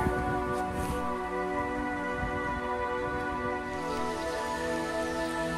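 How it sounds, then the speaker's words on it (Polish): Steady rain falls in a park with a constant patter, accompanied by a persistent low hum throughout. "Się rozpadało."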